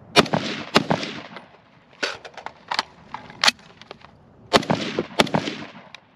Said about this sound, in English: I'm gonna do some more shooting and we're gonna do some accuracy testing.